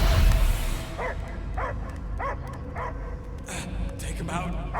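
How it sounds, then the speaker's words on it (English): A dog barks in short repeated yips in the video game Guardians of the Galaxy, over a steady rumbling background, with a voice talking alongside. "I hear only barking"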